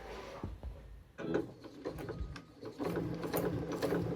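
A sewing machine stitches around zip pocket pieces of check fabric, a close mechanical whirring and rapid clatter that starts after a short pause and runs steadily to the end.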